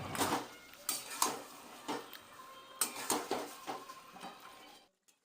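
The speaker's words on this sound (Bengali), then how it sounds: "যতক্ষণ না তেল ছাড়ছে ততক্ষণ অবধি মাংস কষিয়ে যেতে হবে" Chicken meat stirred in a pot for a curry with chui jhal, a metal spoon clattering and scraping against the pot in irregular bursts, close by, with no talk.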